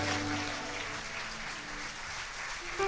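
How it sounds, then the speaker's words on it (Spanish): Audience applause at a Spanish-language motivational church event, a steady broadband wash of clapping that holds through the whole stretch with no voices over it. "¿Por qué no le da un fuerte aplauso al Señor?"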